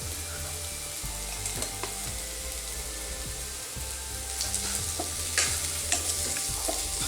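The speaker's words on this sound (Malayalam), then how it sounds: "ഇതുകൂടി നന്നായിട്ടൊന്ന് മിക്സ് ചെയ്ത് കൊടുക്കുക" Samosa vegetable filling being stirred and mixed in a pan, with a steady sizzle, repeated scraping strokes and occasional clinks over continuous background music.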